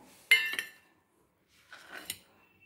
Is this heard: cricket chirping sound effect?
no